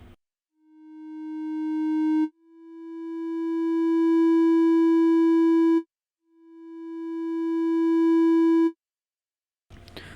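Three sustained synthesizer notes from the Vital synth, each with a long slow attack swelling gradually to full volume before cutting off abruptly, a bright buzzy sawtooth-like tone with brief noise at the very start and end.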